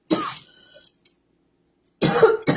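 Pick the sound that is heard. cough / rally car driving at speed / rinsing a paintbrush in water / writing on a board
cough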